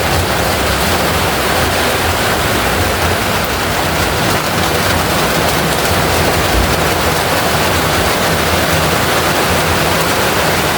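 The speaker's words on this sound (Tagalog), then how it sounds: "lumalakas yung ulan" Heavy rain pours steadily and loudly during succulent and cactus repotting, a dense unbroken hiss that fills the whole stretch with no voices over it.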